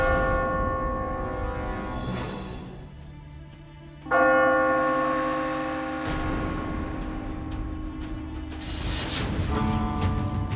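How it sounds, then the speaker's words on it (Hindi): A large palace emergency justice bell rings out with long, sustained tolls, struck repeatedly so each ring blooms and overlaps the fading hum of the last. "ये घंटी तो आपातकालीन स्थितियों में ही बजाई जाती है"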